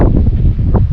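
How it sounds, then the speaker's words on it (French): Gusty wind buffets a microphone outdoors in Australia, a loud, steady low rumble with brief surges lasting under a second, no other sounds standing out. "Là par exemple j'ai le vent dans le visage"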